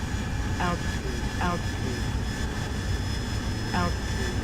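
A Harrier jet's engine roars steadily as it hovers in a slow vertical landing onto grass beside a runway in DCS World, with a constant broadband rush and a few faint short chirps above.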